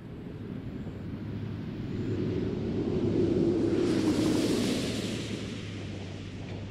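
Space Shuttle Atlantis nears touchdown at Kennedy Space Center with its landing gear down at about 320 mph, heard as a broad distant rushing roar that swells to a peak midway and then slowly fades.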